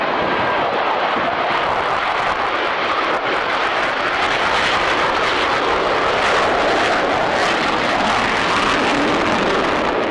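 Military jets with swing wings fly past in formation at the 1993 RAF Waddington airshow, a loud, continuous broadband engine roar that holds steady for the whole stretch.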